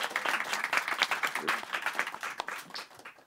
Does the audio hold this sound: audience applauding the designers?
yes